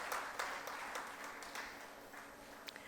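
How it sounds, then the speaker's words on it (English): Audience applause at an awards ceremony as a Special Recognition Award recipient goes up on stage: fairly faint, steady clapping from a seated crowd, with a few sharper individual claps standing out. "Let's keep the applause going, ladies and gentlemen."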